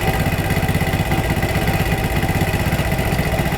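Motorcycle engine idling steadily up close while its air/fuel mixture screw is adjusted, a continuous low throbbing putter with no talk over it.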